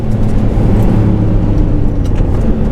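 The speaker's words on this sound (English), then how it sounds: "going over the rumble strips" A Ford Fiesta ST Mk8 tuned to 290 bhp runs over trackside rumble strips, giving a loud, steady low drone of tyre and engine noise close by, with no talk.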